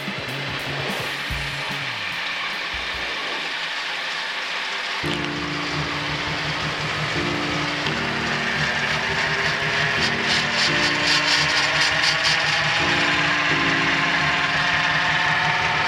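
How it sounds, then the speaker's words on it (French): Gyrocopter engine running as the pre-rotator engages and the rotor begins spinning up, a steady droning hum joined by rising and stepping tonal whine and a whooshing rotor rush, growing louder over time with no speech. "j'engage le moteur, le prélanceur, l'hélice commence à tourner"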